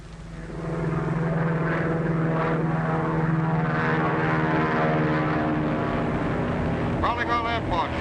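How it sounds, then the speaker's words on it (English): A brown high-wing propeller monoplane from a 1936 film drones loudly and steadily as it flies over, its engine hum filling the whole stretch, with a brief burst of other sound near the end. "Say, that's the one that just flew over here."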